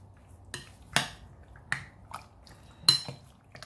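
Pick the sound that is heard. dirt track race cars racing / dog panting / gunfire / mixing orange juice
mixing orange juice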